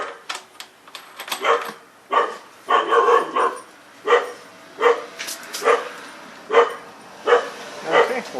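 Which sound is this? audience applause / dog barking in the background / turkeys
dog barking in the background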